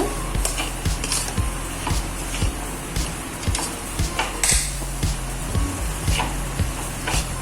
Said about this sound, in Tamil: இது எல்லாமே ஒன்றா சேர்ற மாதிரி கலந்து விடுங்க